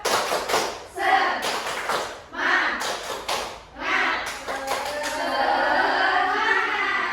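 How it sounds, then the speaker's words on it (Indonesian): A classroom of students performs a rhythmic spirit clap in a teaching session, bursts of clapping and thuds in a patterned beat, with voices chanting along between the claps. "Tepuk semangat."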